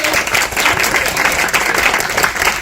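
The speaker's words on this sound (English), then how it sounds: "let's just give her a round of applause." A crowd claps in sustained applause, a dense and steady patter of many hands at fairly close range, lasting a few seconds.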